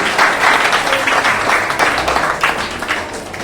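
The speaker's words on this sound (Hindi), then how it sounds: "एक बार सभी प्रतिभागियों के लिए जोरदार तालियां" An audience at a school debate competition claps loudly for the participants, a dense, sustained wash of applause with no voices on top.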